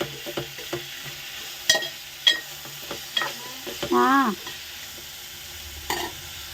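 Onion, tomato, carrot and green chilli fry in a pan, giving a soft sizzle broken by sharp scraping stirs. A brief squeaky clatter sounds in the middle of the mix.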